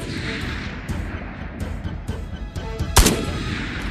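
A sniper rifle shot in Tabor, a Tarkov-style VR shooter, cracks out once as a sharp, loud report near the three-second mark, rising above a steady background of in-game gunfire and ambient noise.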